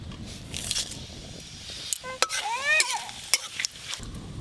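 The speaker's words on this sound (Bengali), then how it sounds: "ফোড়নের জন্য এখানে নিয়েছি তেজপাতা, শুকনো লঙ্কা আর গোটা জিরে।" Bay leaf, dried red chilli and whole cumin temper in hot oil, crackling and sizzling up close amid intermittent stirring scrapes and a few sharp clinks and squeaks.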